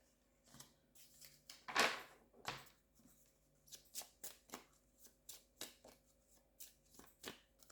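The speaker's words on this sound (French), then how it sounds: "je mélange un peu mes cartes d'abord" A deck of tarot cards being shuffled by hand, a series of soft crisp riffling bursts in a steady rhythm, close and quiet, with no talking.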